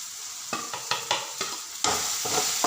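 Masala frying for egg kheema, stirred in a pan with repeated spoon scrapes over a sizzle that grows louder toward the end. No one is talking.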